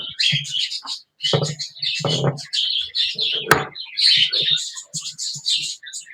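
Pet birds chirp excitedly in rapid bursts of high, close tweets before feeding, with brief gaps and a sharp knock or cupboard-like click midway; a voice talks faintly at times.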